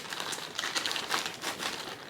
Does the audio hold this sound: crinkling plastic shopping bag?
yes